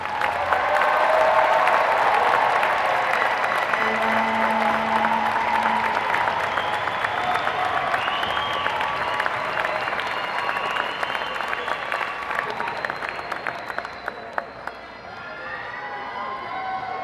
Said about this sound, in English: One more round of applause for every graduate tonight.